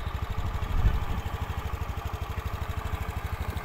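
A TVS Jupiter BS6 scooter with a suspected fuel pump fault idles close up, its engine putting out a steady, even low thumping pulse after a brief louder start, no talking.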